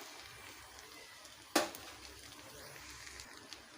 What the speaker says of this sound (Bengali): মশলাগুলোকে ভালোভাবে কষে নেব